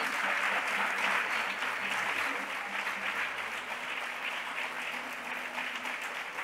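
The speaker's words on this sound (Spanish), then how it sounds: "Un fuerte aplauso." A crowd applauds warmly and continuously at a choir's anniversary celebration, dense clapping holding at an even level throughout with faint voices mixed beneath it.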